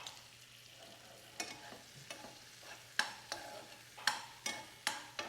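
Prawns fry in a pan with bell pepper and onions, a soft low sizzle punctuated by a series of crisp scrapes and clacks from a stirring utensil, close but quiet, with no one speaking.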